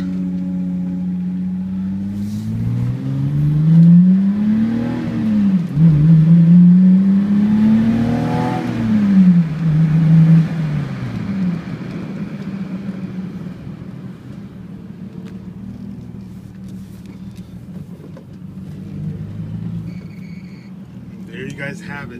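A 1991 BMW 325ix with all-wheel drive accelerates, its engine note climbing and falling through a couple of surges before easing back to a steady hum, close by, while someone talks over it.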